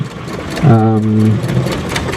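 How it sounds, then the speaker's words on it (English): A heritage museum locomotive with a McLaren engine runs at a rail gala, giving a low, steady engine drone with a brief horn-like tonal swell near the start, while someone speaks over it. "if you listen to the 2 locomotives, that one that's just gone past and this one, you can hear quite a difference in the engine notes"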